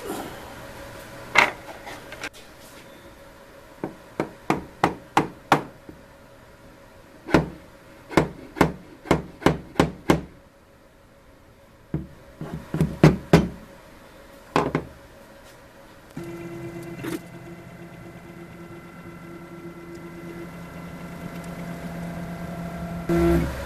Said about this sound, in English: So let me see if I can loosen it and tap that over a little bit.